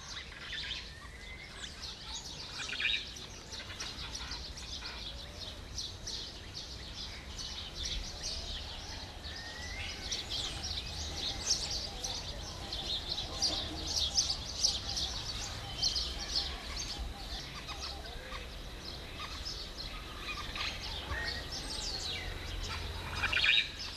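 Exotic birds call and chirp steadily in dense native forest in Mauritius, a continuous chorus of overlapping high tweets over a soft background hiss.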